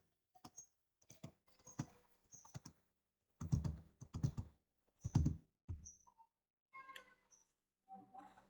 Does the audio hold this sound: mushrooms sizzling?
no